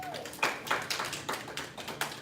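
Children clapping at a martial arts belt ceremony, a string of distinct rhythmic claps in a steady beat, fairly close, with a voice speaking over them.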